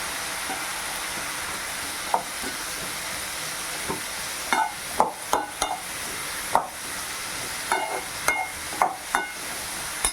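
Steady frying sizzle of onions sautéing in a pan, with scattered clicks and scrapes of stirring, close and moderately loud, no talking.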